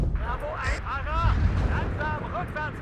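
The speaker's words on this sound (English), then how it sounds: "Artillery seems to be hitting pretty hard." Artillery fire from the war game WARNO lands as a continuous low, heavy rumble of distant impacts, running steadily under a man's speech throughout.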